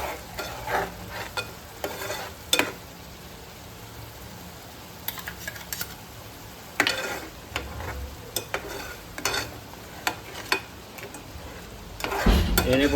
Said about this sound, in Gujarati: હવે આપણે આમાં ટમેટાની પેસ્ટ ઉમેરી દઈશું।